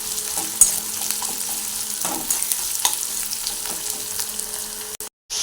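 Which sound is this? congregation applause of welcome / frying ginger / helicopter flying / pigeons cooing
frying ginger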